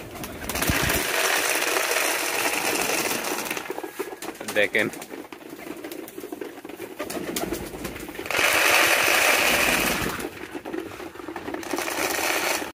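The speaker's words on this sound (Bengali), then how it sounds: "এটা আমাদের পেশোয়ারি কবুতর" Peshawari pigeons coo softly in a pigeon farm in hot sunshine, their calls blending with a steady background hum while someone talks over them.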